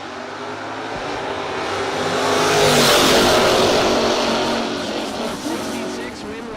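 A third-generation Camaro drag racing at a no-box event, a loud broadband engine roar that swells to a peak and fades as the car passes, with an announcer's voice under it.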